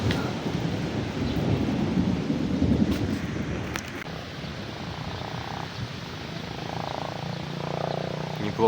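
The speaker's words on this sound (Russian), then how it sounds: "Дождь пошел сильный." Heavy rain pours down steadily in a thunderstorm, a dense continuous hiss with low rumbling thunder rolling underneath throughout.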